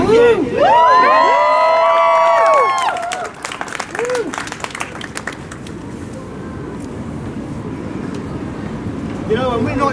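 A large crowd cheers and whoops at a trans rights protest, loud sustained shouting with whistles and rising voices early on, then easing into a broad murmuring roar.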